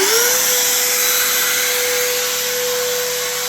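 A Shapeoko Pro CNC router spindle spins up and settles at a steady high-pitched whine around 18,000 RPM, a loud continuous motor tone with constant broadband hiss, no cutting heard.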